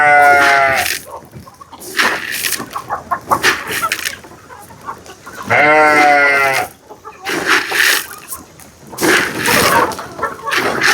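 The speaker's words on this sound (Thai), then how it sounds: "มีแบะ3ตัว ยังมีแบะอีก" Goats bleat loudly and close by in several wavering calls separated by pauses, with softer farmyard animal noises in between.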